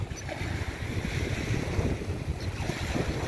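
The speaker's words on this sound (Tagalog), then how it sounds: "Hampas ng alon yan" Waves surge and wash onto the Manila Bay shore after a typhoon, a rough continuous roar mixed with wind buffeting the microphone.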